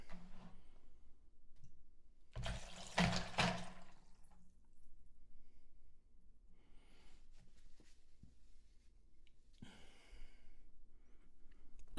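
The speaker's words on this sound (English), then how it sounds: "I'm gonna pour out the ice and the water out of it." Ice and water are dumped out of a chilled rocks glass in one short, clattering splash, followed by faint drips and small handling noises in an otherwise quiet room.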